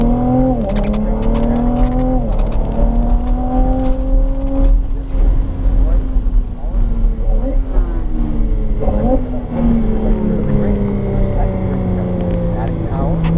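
A race car on a coned track, its engine rising and falling through repeated loud full-throttle pulls and lifts, close and continuous, with people talking over it.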